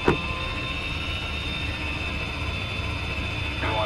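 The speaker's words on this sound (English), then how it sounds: "Helicopter, just to the southeast." Helicopter in the video game Arma, a steady low droning rotor and engine hum holding at constant level, with a brief click at the start.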